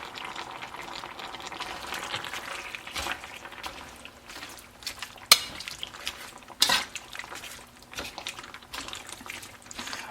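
Cooking utensils scrape and clink against a pan while sauce ingredients for a spicy beef and shrimp teriyaki stir fry are stirred and mixed, a steady busy clatter with a couple of sharper knocks, no talking.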